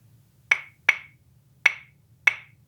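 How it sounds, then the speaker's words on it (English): Four sharp wooden claves clicks in a 2-3 clave pattern, two close together, a pause, then two more, crisp and near with a faint low hum underneath. "So we're going to do 2-3. Okay. Which sounds like this."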